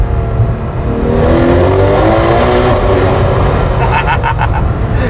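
A Ferrari 12Cilindri on its stock exhaust downshifts as it enters a tunnel, giving a loud, continuous engine roar with a rising rev and booming echo close by.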